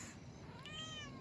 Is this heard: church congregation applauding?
no